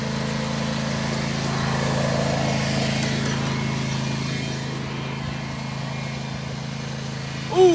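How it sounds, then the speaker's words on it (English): A racing lawnmower's small engine drones steadily at mid-distance in a continuous buzzing hum that swells slightly and then eases, with a brief sharper sound at the very end. "is driving a lawnmower right now."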